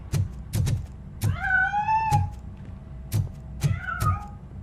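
An escaping cat in the video game Robocop Rogue City gives two drawn-out meows, close and clear, amid a series of soft rhythmic thumps.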